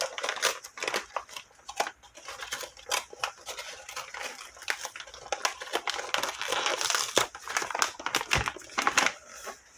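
Gift wrapping paper being carefully unwrapped from a birthday present, giving close, irregular bursts of crinkling and crumpling with no voices.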